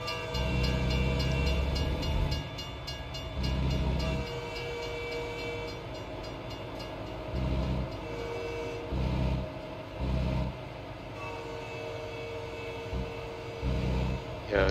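A freight train rolls past a road crossing in a trucking simulator game, its horn blowing in several long blasts over the continuous rumble and clatter of the wagons, with an engine idling nearby.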